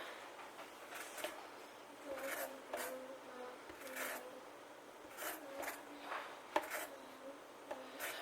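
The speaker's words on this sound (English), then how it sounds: "So I'm just going to get all the zest off this lemon." A lemon is rubbed against a fine microplane grater to take off the zest, giving a series of soft, close rasping strokes in short repeated bursts, fairly quiet, with no talk.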